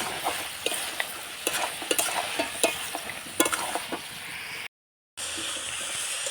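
Meat with salt and turmeric is stirred in a pan over fried onion and chilli, producing soft sizzling with repeated scraping and clinking strokes close by, then a brief silence and quieter frying.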